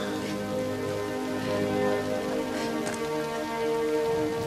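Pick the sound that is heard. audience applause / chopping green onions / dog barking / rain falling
rain falling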